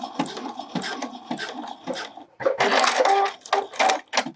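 A sewing machine backstitches across a bralette seam in short bursts of rapid stitching with brief pauses, close and clear, growing busier in the second half.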